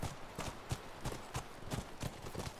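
Horse hooves clip-clopping at a walk over rough terrain in The Last of Us, a steady uneven series of near, moderately loud hoofbeats with no talking.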